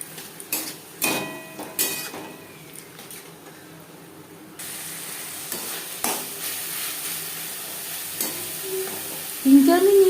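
Ginger paste fries in a pan for a Bhola fish curry, with a steady close sizzle broken by several scraping strokes of a spoon stirring, growing louder near the end.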